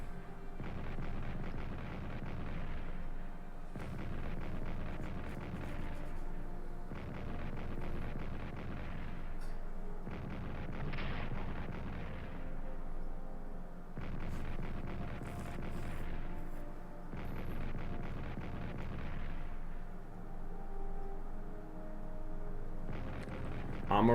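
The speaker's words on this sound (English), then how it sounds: "But that's after an artillery barrage." Artillery barrage in the World War I strategy game Strategic Command: a steady, dense rumble of distant booming shell fire in repeated waves, continuous and moderately loud throughout, with no pauses.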